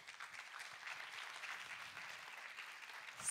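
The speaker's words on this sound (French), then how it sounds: "On peut vous applaudir." Attendees at a conference on coaching and career guidance applaud, producing fairly faint, even clapping that sounds somewhat distant and continues steadily throughout.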